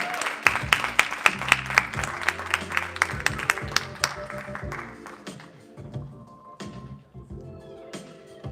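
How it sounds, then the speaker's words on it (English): Applause from an audience at a poetry open mic, many hands clapping loudly and densely at first, then thinning into scattered claps and fading over several seconds. "Cece, clap it up for y'all."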